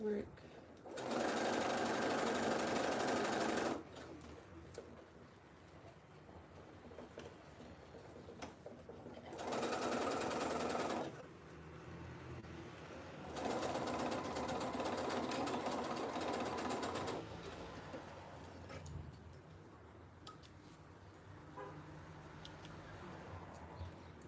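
A sewing machine stitches fabric for a dress in three loud bursts of running, about two to four seconds each, with quieter pauses between as the fabric is repositioned and a person speaks.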